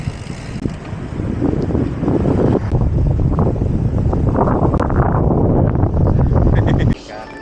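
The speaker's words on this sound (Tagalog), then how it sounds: "Lakas ng hangin." Strong wind buffets the microphone on a long road bike ride near windmills, a loud steady rumble that roars on for several seconds and then drops off sharply at the end.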